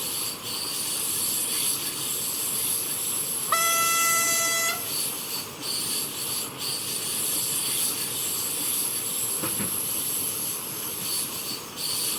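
Simulated train running on the Mittenwaldbahn in Train Simulator Classic, a steady rolling rumble and hiss throughout with a loud horn blast of about a second near the middle and a brief clank later, no voices.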